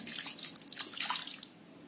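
Water is poured into a pot of country chicken being cooked for varuval, giving a faint, brief splashing trickle that fades after about a second and a half.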